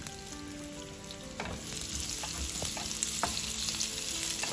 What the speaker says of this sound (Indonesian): Ditumis.